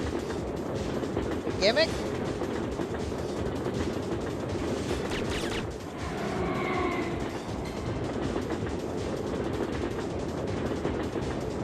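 A train rumbles steadily through a tunnel in the video game Syphon Filter, a dense continuous roar with a brief metallic squeal and a short whine midway, while a voice briefly speaks over it.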